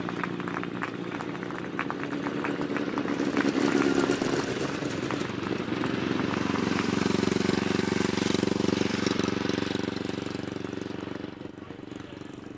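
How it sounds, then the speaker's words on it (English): Big 1000cc sidecar racing outfits on a grasstrack at the Battle of Britain meeting, their engines a loud continuous roar that swells and holds steady with rough mechanical rattle, with faint voices underneath. "And we've just left with the big 1000 sidecar race"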